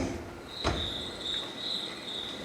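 Steady cricket chirping used as a stage sound effect in a school theatre show, a continuous high trill with a brief knock partway through, no talk.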